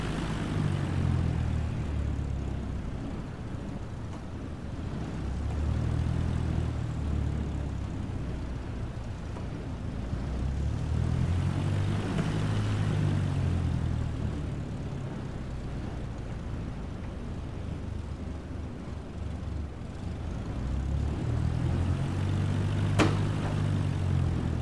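A propeller aircraft taxiing at an airport in Microsoft Flight Simulator, its engine giving a steady low droning hum that swells and eases slowly, with a soft wind-like hiss, near and continuous.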